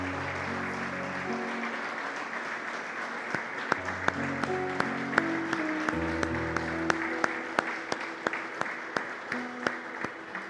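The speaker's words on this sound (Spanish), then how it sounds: "Dale un aplauso al Señor." A church congregation applauds steadily with scattered sharper claps during a sermon, while sustained keyboard music plays underneath.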